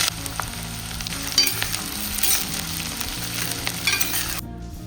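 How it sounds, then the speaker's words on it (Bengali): Chopped onion dropped into hot oil for a chicken curry, producing a steady, loud, close sizzle with occasional spatter and stirring throughout. "এবার তেল গরম করে পেঁয়াজটা দিয়ে দিলাম।"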